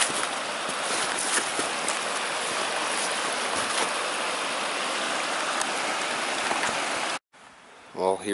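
A creek runs steadily past a partly snow-melted turkey hunting field, a loud, close, continuous rushing babble of water that cuts off near the end, giving way to brief quieter sounds.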